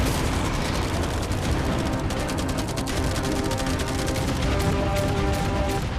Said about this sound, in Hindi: एक विशाल सी माइन जो कि उन पहली वाली 15 माइंस के बराबर है, और वो सभी फायरवर्क्स, एरोज और वो कैटापुल्ट्स सभी के सभी एक साथ इस फाइनल फेज के लिए